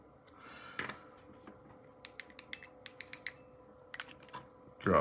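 A flashlight switch clicked repeatedly during a repair, a quick run of sharp, close, crisp clicks in the middle of the clip, with light handling noise before and a louder clack at the end.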